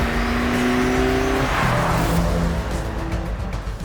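A VW Golf GTI hot hatch with its 1.6-litre fuel-injected four-cylinder engine driving along, a loud, steady, close engine drone whose pitch shifts as it pulls, with road and wind roar underneath.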